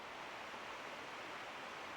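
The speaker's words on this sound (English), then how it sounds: "It's not clear what aspect of this falls is making the loudest hissy noise" A waterfall hisses in a steady, unbroken broadband rush, heard from nearby on a riverside field stop with no talk over it.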